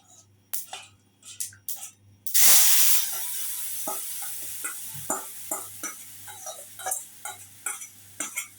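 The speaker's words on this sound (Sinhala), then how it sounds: "දැන් අපි හදාගත්ත පරිප්පු ටික තාච්චියට දාන්න මේ විදිහට" Cooked lentils (parippu) tip into a hot pan with a brief loud splatter and sizzle, followed by repeated clinks and light stirring scrapes with an ongoing faint hiss.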